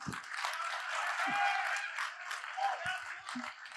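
An audience at a Bundeli poetry and literature event claps together in a steady wash of applause, with a voice speaking briefly over it.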